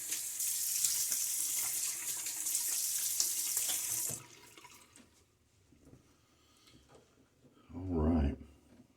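Running water from a sink tap splashes loudly and steadily for about four seconds as it is cupped onto the face during a wet shave, then stops, leaving soft handling sounds and a brief louder splash near the end.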